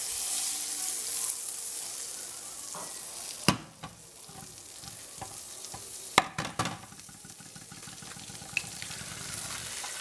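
Butter and an egg fry in a pan with a steady, close sizzle, broken by a few sharp clicks and knocks of utensils against the pan.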